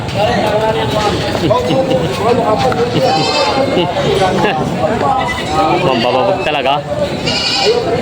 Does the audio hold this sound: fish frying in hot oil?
no